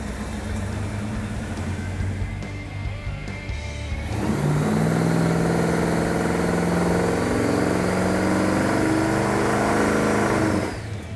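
An old, worn Dodge Daytona engine is run up on a chassis dyno to about 5,400–5,500 RPM, a loud sustained roar that builds and holds steady for several seconds before dropping off near the end.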